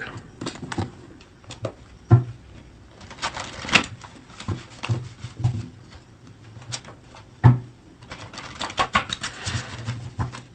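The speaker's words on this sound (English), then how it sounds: "let's get some cards from this deck" Tarot cards drawn from a deck give soft papery riffles and light taps, scattered and irregular, close and quiet across the whole stretch.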